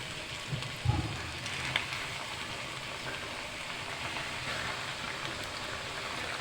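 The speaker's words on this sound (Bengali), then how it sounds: "তো এখন আমি দিয়ে দিচ্ছি, বাদ বাকি অংশগুলো ভেজে নিচ্ছি" Chicken wings deep-fry in hot oil, restaurant style, making a steady, hissing sizzle that stays close and constant, broken by a couple of soft knocks early on, with no one speaking.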